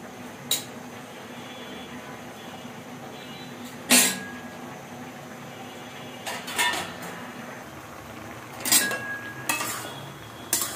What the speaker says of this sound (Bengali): আমার মাছটা বসানো হয়ে গেলে এবার ঢাকনা দিয়ে ঢেকে দেবো।